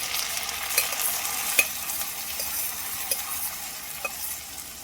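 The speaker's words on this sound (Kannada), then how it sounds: "ಬೆಂದಮೇಲೆ ಇದಕ್ಕೆ ನಾವು ಬೇಯಿಸ್ಕೊಂಡಿರೋಂಥ ಹೆಸರು ಕಾಳನ್ನ ಹಾಕಿ ಮಿಕ್ಸ್ ಮಾಡಿ." Boiled whole moong is stirred into cooked vegetables in a pan for a moong dal curry, a soft steady sizzle with a handful of light spoon taps and scrapes at irregular intervals, close and unaccompanied.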